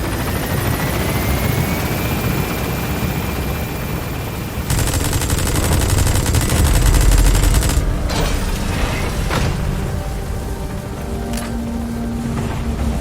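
A support helicopter in Metal Gear Solid V lifts off from a landing zone, its rotor thumping loud and dense throughout, with bursts of gunfire-like rattling and shifting engine tones as it climbs.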